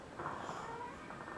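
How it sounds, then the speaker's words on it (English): Domestic cat meowing indoors near a sofa, a single drawn-out meow at close range that is moderately loud, with no talk. "She's a cat, what can I do?"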